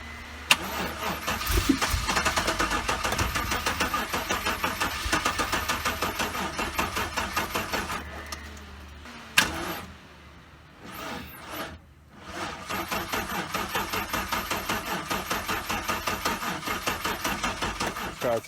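An old Mino engine cranks over and over in a fast rhythmic churn, stops briefly, then resumes cranking as it tries to catch; loud and close, with no voices.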